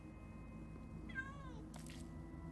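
A single cartoon cat meows, rising then falling, in the video game Minecraft Story Mode, clear over a steady low game soundtrack hum.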